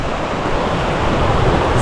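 A waterfall at a mountain lake on Senja rushes in a dense, continuous roar, loud and close with no pauses.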